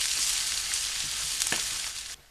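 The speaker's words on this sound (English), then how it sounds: "I'm going to add my mushrooms and my garlic to that pan" Mushrooms and garlic frying in a slightly too hot pan, giving a steady, close, bright sizzle that holds throughout, with a brief stir clink partway, then easing off at the end; no talking.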